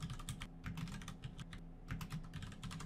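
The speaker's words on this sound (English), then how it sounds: "Go ahead and type in a name for your strategy." Fingers type on a computer keyboard, entering a name for a trading strategy: quiet, rapid key clicks in short bursts with brief pauses, heard alone.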